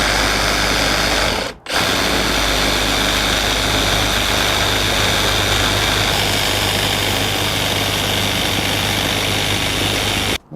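A Milwaukee M18 Fuel second-generation Sawzall reciprocating saw cuts through oiled metal, buzzing loudly and steadily for about ten seconds, with a brief pause near the start before resuming.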